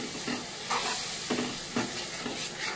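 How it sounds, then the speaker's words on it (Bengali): A soaked spice paste of chilli, turmeric, salt and coriander powder frying in oil, giving a steady close sizzle broken by several rhythmic scraping stirs of the pan. "এটা এবার দিয়ে দেবো। মশলাটাকে ভালো করে কষাতে হবে।"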